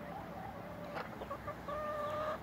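A few hens cluck softly nearby, with short clucks followed by a drawn-out tonal call near the end, over a quiet farmyard background with no talking.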